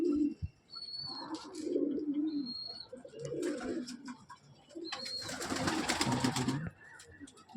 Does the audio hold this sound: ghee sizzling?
no